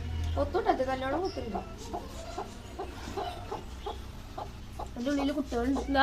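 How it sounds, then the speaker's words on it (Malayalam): A mother hen with eight chicks clucks repeatedly in short bursts nearby, while a person's voice talks at times. "കോഴിയമ്മേനെ കാട്ടിത്തരാം"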